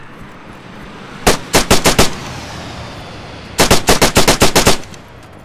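Automatic gunfire in the video game ArmA 3 comes in two sharp bursts: a short run of about five shots, then a longer string of roughly ten rapid shots, loud and close with no talking.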